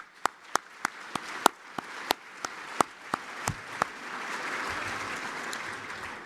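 Scattered applause at an anniversary awards gala, a handful of loud distinct claps close by over a softer spread of clapping that swells into a brief broader patter before fading.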